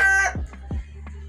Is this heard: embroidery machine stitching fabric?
no